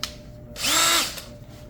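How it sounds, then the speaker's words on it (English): A power drill fitted with a 3/4-inch diamond hole saw and pilot bit spins up loudly on slow for about half a second in a rising whine, then winds down, with quieter room noise before and after. "You hold your drill, put it on slow"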